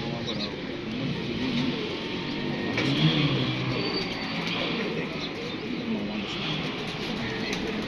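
Pigeons of a fancier's flying breed coo in low, soft rolling phrases around the middle of the stretch, set against a steady rustling background and occasional faint chirps.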